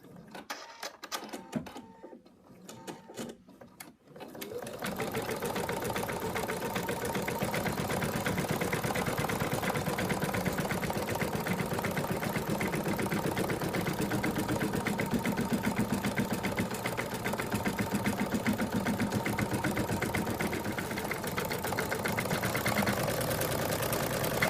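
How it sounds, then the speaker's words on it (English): An embroidery machine stitches out the second outline on a hooped Madame Mouse design: a few scattered handling clicks and taps, then a loud, steady, fast needle chatter and motor hum running close and continuous to the end. "I've put the hoop back into the machine, and I'm now going to stitch out the second outline."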